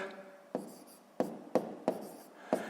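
Pen on paper writing numbers by hand, a few short separate scratching strokes with brief pauses between them, close and faint, with no talking.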